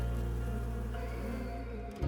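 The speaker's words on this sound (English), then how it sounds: "I would hear the busy work of bees" A dense, steady buzzing of bees hums close by on a Pacific Crest Trail hike, continuous and unbroken, with no voices present.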